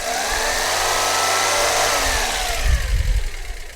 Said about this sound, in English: So I'm just showing you the purpose of what the timing belt is on the pulley and how it spins.